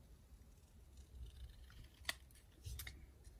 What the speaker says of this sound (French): je prends les grands ciseaux parce que je coupe droit.